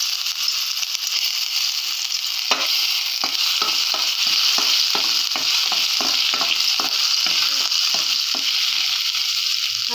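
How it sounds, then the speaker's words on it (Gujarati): Ginger garlic paste frying in hot oil for a soybean rice dish gives a steady, loud sizzle, with a rhythmic series of scraping stirs from about the third second onward and no talk. "તેલ ગરમ થઈ ગયું છે પહેલાં આપણે એમાં આદુ લસણની પેસ્ટ નાખીશું"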